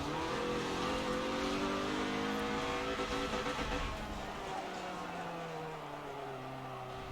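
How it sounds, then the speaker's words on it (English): Twin-turbo 1-liter four-cylinder race car in Forza Motorsport 7, engine revving loud and continuous with rising and falling pitch sweeps, easing to a steadier lower drone in the second half. "this is some like 1 liter 4-cylinder with like twin turbos or something"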